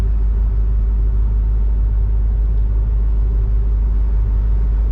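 A ferry's engine gives a loud, steady low rumble on the crossing to St. George Island, Florida, a constant droning throb with no voices.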